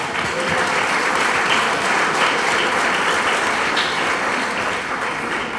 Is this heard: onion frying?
no